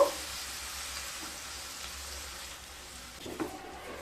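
Ground spices with turmeric, cumin, salt and a splash of water cook in a pan for a raw-tomato catla fish curry, a faint soft sizzle running steadily with a brief stir clatter near the end.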